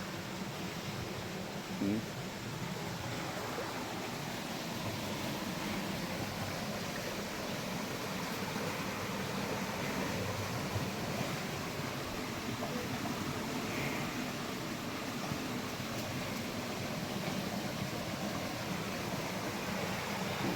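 Steady broadband rush of flowing stream water, continuous and fairly even throughout, with no voices.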